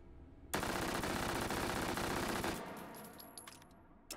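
An H&K gun in the VR game Hot Dogs, Horseshoes & Hand Grenades firing full auto, one loud close continuous burst of rapid shots lasting about two seconds, followed by faint clicks and metallic clatter.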